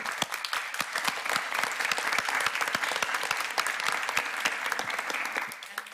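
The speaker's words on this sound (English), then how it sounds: "I think we should clap" A workshop audience applauds at the close of the day, a dense, steady patter of many clapping hands filling the room for several seconds.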